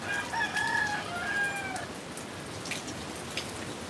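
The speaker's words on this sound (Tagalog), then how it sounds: "1 month raining here in the Philippines, Bicol region." Heavy rain in the Bicol region of the Philippines hisses as a steady wash, while a rooster crows once early on; no talking.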